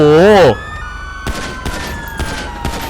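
Gunfire aimed at car tires during a GTA V police chase: a loud wailing police siren opens, then several sharp shots crack at irregular intervals over a steady engine drone.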